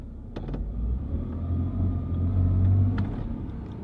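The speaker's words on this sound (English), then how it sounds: "So if I just start the car, and I put it into the first and" A Porsche idles and strains in first gear against a pulled handbrake, a steady low engine rumble that swells slightly, heard close with a couple of faint clicks and no talking.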